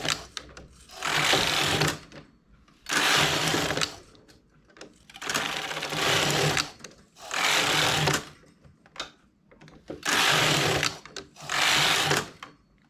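A domestic knitting machine knits rows of a stepped geometric pattern, its carriage sweeping back and forth in six steady, loud rattling passes of about two seconds each, separated by brief pauses.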